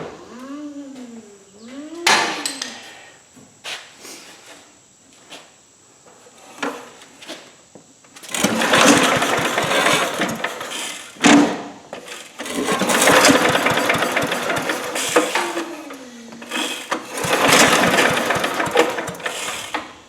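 An Atlas shredder's small engine, running without an air filter, sputters in uneven bursts: brief quiet stretches and clanks give way to loud ragged runs that surge and cut out, with no voices over it.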